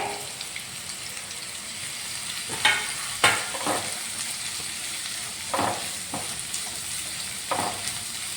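Chopped onion fries in a pan with a low steady sizzle, broken by several distinct spoon scrapes and taps against the pan at irregular intervals, close and without speech.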